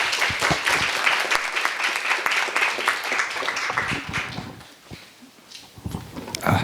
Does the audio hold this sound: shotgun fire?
no